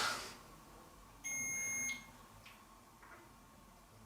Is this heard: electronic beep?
yes